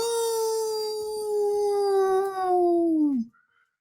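A human voice imitates a dog's howl in one long, sustained, wavering note that slowly drops in pitch and then cuts off abruptly, close and loud, with no other sounds.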